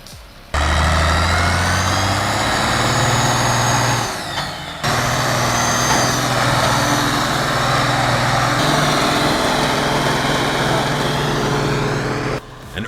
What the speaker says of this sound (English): An Ursus 1614 pushed to the edge of its transmission.